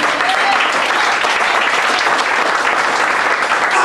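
A church congregation applauds in praise of the Lord, with sustained loud clapping from many hands filling the room evenly and continuing throughout.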